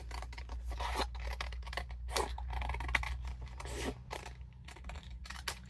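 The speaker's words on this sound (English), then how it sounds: "let's start by simply trimming along here" Scissors trimming printed paper tags for a junk journal, a quick series of close, crisp snipping cuts with brief pauses, with light paper rustle and no talking.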